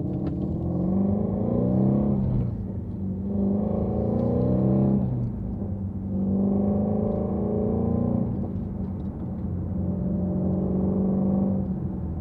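A Dodge R/T car cruises along a road in Canada, a low steady engine rumble and tire drone that swells and eases in long waves, heard from inside with no talking.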